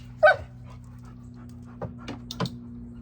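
Dog panting softly and steadily during rear-foot target training indoors, with a brief sharp sound near the start and a few faint taps and movements over a constant low hum.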